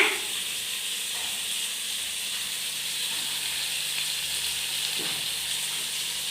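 Sambar powder sizzles in hot oil in a pan while it is stirred. A strong, continuous frying hiss carries through the whole stretch, with faint scraping bumps from the stirring.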